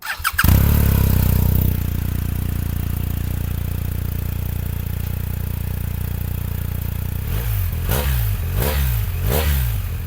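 A BMW R1250 GS boxer twin motorcycle engine cranks and fires loudly, settles into a steady idle, then gives three quick throttle blips near the end, close to the microphone with no talking.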